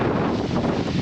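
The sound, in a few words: wind blowing against an RV at a camping spot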